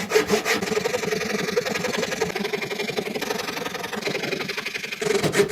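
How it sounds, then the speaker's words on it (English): Hand saw cutting a wooden glidebait fishing lure in half: steady, rapid back-and-forth rasping strokes, close and continuous, with no talking. "I'm going to go ahead and cut the lure in half."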